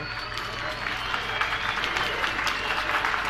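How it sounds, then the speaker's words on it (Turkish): Dense, steady applause from a crowd at a 23 April National Sovereignty and Children's Day celebration, a continuous wash of clapping filling the whole stretch, with cheering or voices mixed faintly underneath. "Alkış!"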